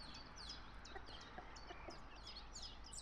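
A hen out on a farm with her chicks makes soft clucks, mixed with a steady stream of high, chirping peeps from the chicks, all faint and fairly distant with no talking.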